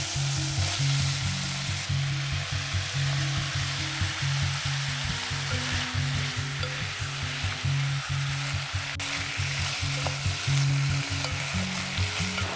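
Beef sizzles and fries in a pot for Korean beef radish soup, a dense continuous crackle and hiss with occasional stirring scrapes, close and steady throughout.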